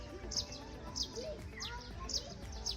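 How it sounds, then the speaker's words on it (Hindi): Birds chirp at sunrise near a resort during a road trip. Short, high tweets repeat every second or so at moderate distance over soft background noise. "चुर चुर चुर की आवाजें आ रही हैं, परिंदे चहचहा रहे हैं।"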